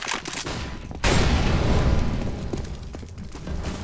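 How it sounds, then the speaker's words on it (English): Flashbang grenade thrown during a competitive first-person shooter match on a custom map, a sudden loud burst at about one second that sustains a dense, roaring wash before slowly fading, with faint game clatter around it. "Throwing flashbang."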